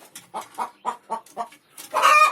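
A hen that has just laid eggs clucks in a series of short, evenly spaced calls close by, ending in a louder, longer squawk.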